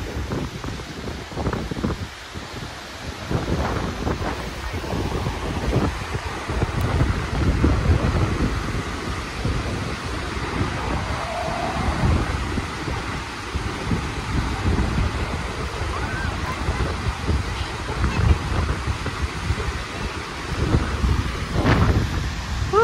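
Steady gusty wind at Takakkaw Falls in the mountains of British Columbia, Canada, buffets and rumbles close to the microphone, a continuous low roar with no voices.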